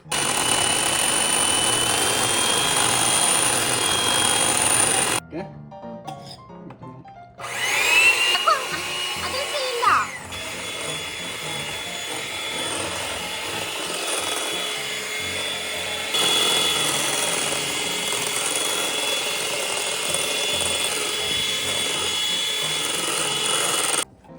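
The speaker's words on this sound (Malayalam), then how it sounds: "നമുക്കിതൊന്ന് മാറ്റി വെച്ചിട്ട് നമ്മുടെ എഗ് വൈറ്റ്സ് ബീറ്റ് ചെയ്തെടുക്കാം" An electric mixer whirs loudly and steadily beating egg whites for Japanese pancakes, cutting out for a couple of seconds and then resuming with a slightly changed pitch as it works through the bowl.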